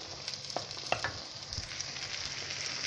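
Cherry tomatoes, eggplant and pancetta sizzle steadily in a pan, a constant hissing fry with small pops and crackles throughout, close up and with no voices.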